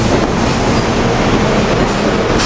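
Loud rumble and clatter of a SEPTA Silverliner 5 commuter train pulling away, wheels rolling steadily on rails close by, with no talking.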